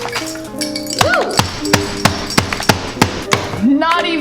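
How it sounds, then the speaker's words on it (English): A hammer striking graham crackers in a kitchen: about eight sharp, evenly spaced thuds and cracks, loud and close, over a faint musical background with brief voice-like sounds. "Okay, hammer time."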